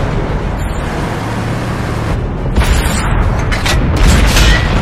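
A tank cannon round striking its target in World of Tanks, a heavy booming impact over a loud rumbling engine drone, with the blast swelling toward the end.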